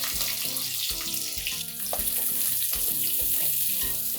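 Red onion frying in hot oil with spluttering cumin seeds, giving a steady, dense sizzle that runs throughout over a layer of background music.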